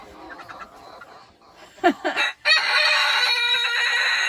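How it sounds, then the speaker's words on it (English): Chickens cluck and squawk outdoors, a few sharp calls rising over a busy, continuous flock chatter at moderate distance. "40 chickens out here."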